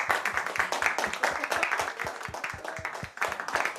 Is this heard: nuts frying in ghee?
no